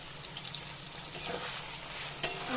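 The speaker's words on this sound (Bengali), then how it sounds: "পেঁয়াজটা মোটামুটি ভাজা হয়ে এসছে এখানে আমি দেখো আদা রসুনের যে আমি বেটে রেখে দিয়েছিলাম এই আদা রসুন এতটা পরিমাণে দিলাম" Onion frying in a pan with ginger-garlic paste gives a faint, steady sizzle, with a soft stir or tap near the end.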